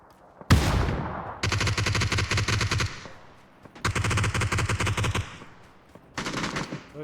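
Automatic weapon fire in the video game PUBG: three loud, rapid bursts of close gunshots, each lasting over a second, separated by brief pauses, with no talking over them.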